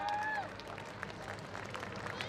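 Audience applause at a school foundation day and annual day celebration, welcoming the school director onto the stage; steady dense clapping from a crowd throughout, with a voice briefly heard over it at the start.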